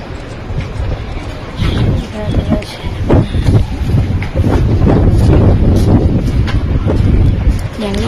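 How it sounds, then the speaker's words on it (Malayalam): Strong wind buffets the microphone outdoors on a trip in Pisa, a loud rumbling roar that swells and holds, with voices talking in the background. "നല്ല കാറ്റുണ്ട് കണ്ടോ"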